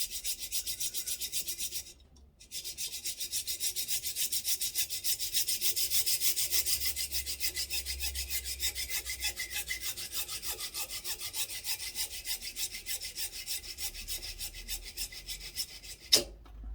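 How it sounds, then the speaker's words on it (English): A hacksaw cuts off a plastic part from a Yamaha NS-690 Mk III speaker, making steady, rapid rasping strokes up close, with a brief pause near the start and a sharp clunk at the end. "I've got a bit of plastic that I'm just going to saw off with a hacksaw"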